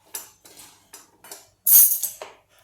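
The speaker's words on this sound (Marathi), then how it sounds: "नुसत्या गरम कढईमध्ये या हळद हिंगाला फिरवून घ्यायचं" A spoon works turmeric and asafoetida around a hot kadhai with the gas switched off, making a string of short metallic scrapes and clinks, about six separate strokes up close, with the last ones louder and brighter.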